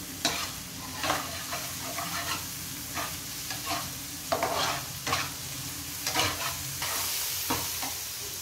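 Tuna frying in a pan, a continuous sizzle broken by regular scraping and stirring strokes about once a second, close and clear with no talk.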